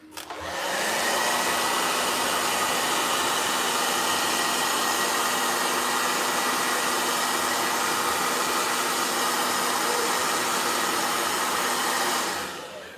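A blow dryer runs loud and steady at close range, a continuous even roar from start to finish with no voices.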